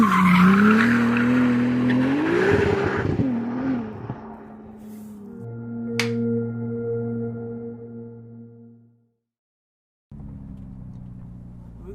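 Ferrari 296 GTB sports car in Maranello, Italy, driving with a loud engine note that rises and falls through gear changes and tire noise, then holds a steady hum, cuts to a brief silence and returns.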